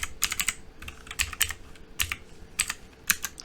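Keys clatter on a computer keyboard as text is typed into an Excel spreadsheet, quick irregular clusters of crisp taps close up with brief pauses, no voices.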